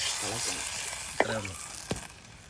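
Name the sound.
tamarind water simmering in a pan with curry leaves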